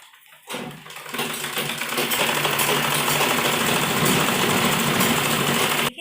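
A sewing machine stitching a baby dress made from a dupatta starts after a brief pause and runs as a loud, steady, close motor whir until the end.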